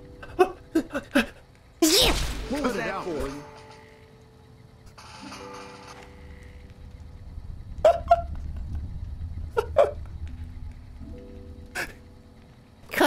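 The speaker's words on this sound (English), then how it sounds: "Another sneeze coming in." A man sneezes from allergies while playing Fallout: New Vegas, with several short sharp bursts early, one loud sneeze near two seconds, and more brief outbursts later among quieter game sounds.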